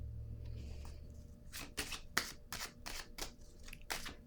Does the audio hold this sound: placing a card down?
yes